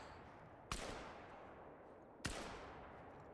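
Two loud 10 gauge shotgun blasts fired at a turkey in the hunting game theHunter: Call of the Wild, each a sharp crack with a decaying tail, about one and a half seconds apart.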